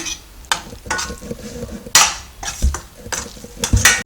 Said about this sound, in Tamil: கொத்தமல்லி சேர்த்து நல்லா கிளறிக்கலாம்